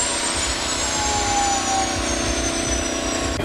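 Loud, steady roar of a TWA airliner's engines running, a continuous close whine and rumble with no pauses.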